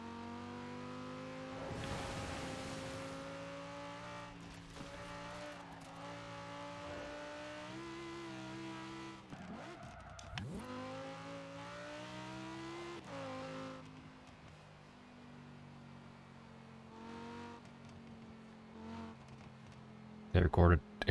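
A racing car engine in Forza Horizon 4 revs and climbs through gears in repeated rising sweeps, loud and close, settling to a steadier drone, with a voice talking over it.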